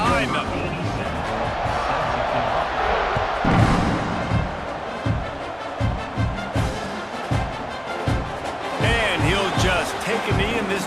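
A stadium crowd at a Penn State vs Oklahoma football game roars at kickoff, a broad steady din with swelling cheers and rhythmic thumping claps, while a commentator talks over it.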